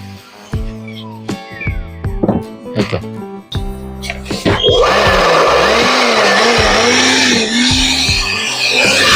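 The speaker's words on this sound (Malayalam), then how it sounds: "ഇങ്ങനത്തെ ബാറ്ററി കട്ടർ വളരെ യൂസ്ഫുള്ളായി ഉപയോഗത്തിൽ വരാറുണ്ട്" A cordless power cutter whirs at high speed, loud and close, after some intermittent clattering and revving at the start, with no talking.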